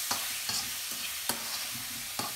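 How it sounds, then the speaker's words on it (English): Squid and cuttlefish quick-fry in hot oil in a wok, a steady close sizzle broken by several sharp scrapes of a utensil stirring against the pan. "all we're doing is just literally shallow frying these, or quick frying them in the wok"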